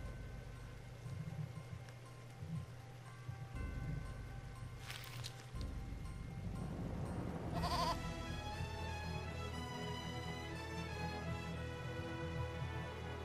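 In the video game Eternal Sonata, a goat lets out a single short bleat over soft background game music, after a quiet stretch with faint scattered taps.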